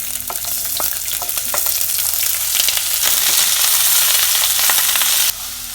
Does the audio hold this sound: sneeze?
no